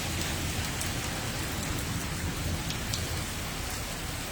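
Heavy rain falls steadily on a road in Tapa Mandi, Barnala district, Punjab, a thick unbroken hiss with occasional sharper drop spatters, no voices.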